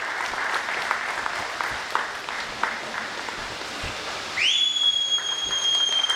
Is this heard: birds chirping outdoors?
no